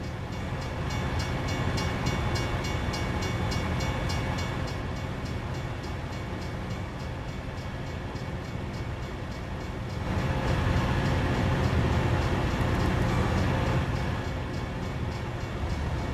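A video game train rumbles steadily with a low roar and rattling hum, swelling louder near the end before easing off; no voices.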